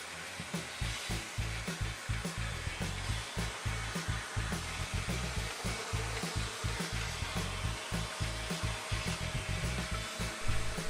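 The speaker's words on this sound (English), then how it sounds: "any household vacuum will do" Household vacuum cleaner sucking lint out of a sewing machine: a steady, loud motor whine with rapid rhythmic pulsing as the nozzle works, running continuously and close, with no talking.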